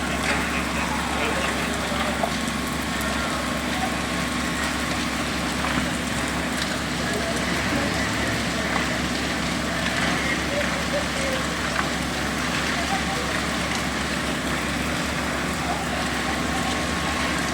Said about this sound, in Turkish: Yağmura rağmen alevlerin tüm binayı sardığı